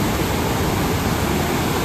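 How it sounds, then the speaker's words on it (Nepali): Fukiware Falls in Japan roars as a dense, loud, unbroken rush of falling water, steady throughout with no voices. "यो चाहिँ झरना, यो भन्दा माथि हो फुकिवारे फल्स भनेको चाहिँ।"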